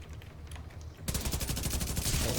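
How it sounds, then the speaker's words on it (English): An automated gun turret in the video game The Division 2 shoots at enemies. A quieter stretch gives way to sustained rapid bursts of loud, close fire that continue to the end, with no talking. "I'm gonna leave that gun up. It's gonna shoot the enemies for me."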